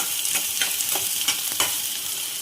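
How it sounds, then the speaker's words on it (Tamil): Onions sizzle steadily in about two spoons of hot oil on a tawa, a constant crackling hiss punctuated by light scraping strokes as they are stirred. "வெங்காயம் நல்லா கண்ணாடி பதம் வரைக்கும் வதங்கணும்."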